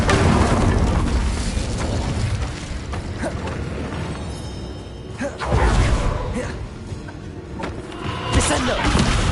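An Incendio fire spell is cast in Hogwarts Legacy, giving loud whooshing bursts and booming thumps amid dense combat noise, with one strong surge in the middle and speech faintly mixed in.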